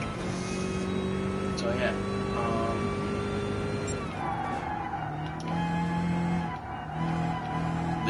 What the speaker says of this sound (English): The engine sounds in this are just superb.